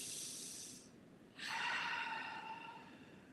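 A deep breath drawn in through the nose and released, a close airy inhale followed by a long, soft hissing exhale in a quiet room.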